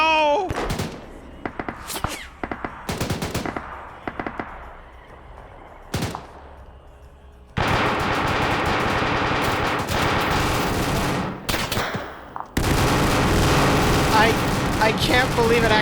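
A BTR armored vehicle's machine gun in a video game, heard as long sustained loud bursts of automatic fire with earlier scattered single shots and thuds, mixed with shouting voices.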